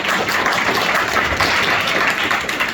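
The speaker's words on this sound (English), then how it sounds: "a huge round of applause" A large audience applauds at an Entrepreneur First hosted event, a dense, steady wash of clapping that stays loud and even for the whole stretch, with no voices over it.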